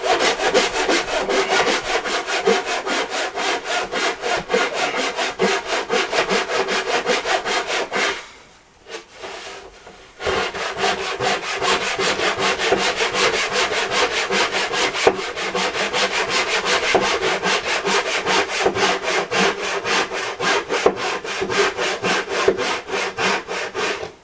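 A Western handsaw cuts through wood with a steady, rhythmic push-pull rasp that is loud and close, breaks off briefly around the middle, then resumes at the same pace.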